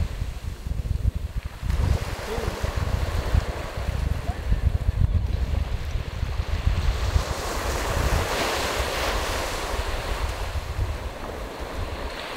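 Sea waves washing onto the shore under strong wind, with a continuous loud roar, low rumble and heavy wind buffeting on the microphone.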